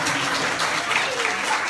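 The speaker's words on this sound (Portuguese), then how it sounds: "Uma salva de palmas para a Filomena." Applause from an audience at a dance-hall show, a dense, steady clatter of many hands filling the short moment.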